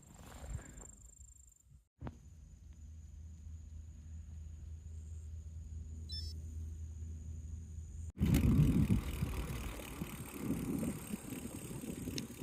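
A bicycle rides along a forest track at dusk, giving a steady low rumbling roll that turns louder and rougher in the last few seconds, with no talking.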